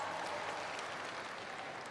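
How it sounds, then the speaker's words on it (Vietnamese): A studio audience at a televised dance competition gala finale applauds, a dense, steady clapping wash that stays even and moderately distant throughout, with no voices. "Một tràng pháo tay nồng nhiệt cho Huyền Thanh."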